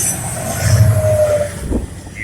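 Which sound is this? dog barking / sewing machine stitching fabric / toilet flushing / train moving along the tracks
train moving along the tracks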